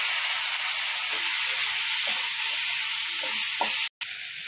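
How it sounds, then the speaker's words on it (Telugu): Tomatoes tipped into a hot pan for pav bhaji set off a steady, close sizzle and hiss that runs unbroken, with a few soft stirring knocks and a brief cut near the end. "ఇప్పుడు టొమాటోస్ వేసేసుకుందాం."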